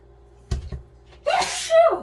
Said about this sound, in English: pepper's gonna have me sneezing.